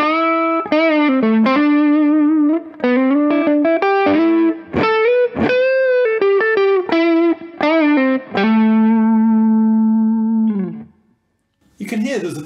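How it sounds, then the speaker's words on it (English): Electric guitar played with the guitar volume turned up through a Professor Little Green Wonder overdrive pedal, giving lightly driven, sustained chords and single notes in a steady phrase that ends on a long ringing chord, with no talking over it. "you can hear there's a bit of drive to it, and the reason for that is because I've got my my Professor Little Green Wonder pedal on"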